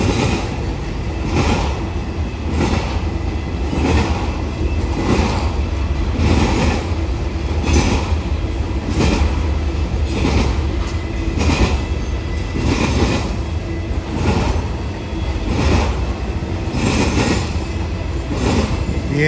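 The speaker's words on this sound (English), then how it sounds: "We have a Z train here" A BNSF intermodal Z freight train passes at milepost 63 in Cajon Pass, a loud, steady, close rumble with a regular clickety-clack of wheels over rail joints throughout and no talking.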